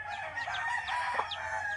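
A farmyard rooster crowing among chickens, a single near cock-a-doodle-doo with a few clucks around it, heard alone with no talk.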